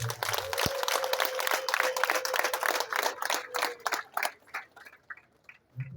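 An audience claps to welcome a minister at a community assembly, a dense burst of applause that runs steadily for several seconds and then thins into scattered claps near the end.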